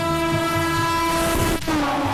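The MP Sampark Kranti Express passing close by at night while overtaking a Prayagraj special train, a loud sustained horn blaring over rumbling wheels with a brief dip in the roar.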